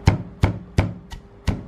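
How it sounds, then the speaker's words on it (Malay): Raw rice being pounded until fine for fried pork kasam, five heavy, close thuds at a fairly even beat with short pauses between them and no talking. "Oke, ketuk beras ini jadi halus."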